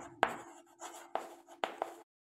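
Pen or chalk strokes writing out an answer to a class 5 floor-area math problem, a few short scratchy bursts with brief pauses between them, close and quiet, with no talking.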